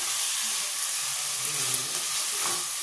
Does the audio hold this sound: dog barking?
no